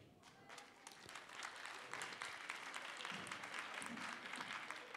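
A theatre audience applauds young student performers, a dense, sustained patter of many hands clapping at moderate distance for the whole stretch.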